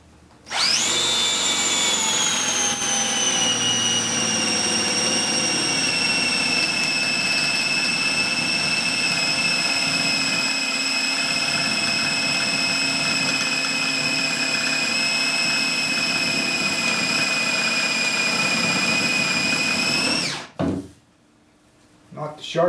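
Drill boring a hole in a wooden post for an armrest, a loud steady whine running for about twenty seconds, its pitch sagging slightly as the bit bites, then cutting off abruptly.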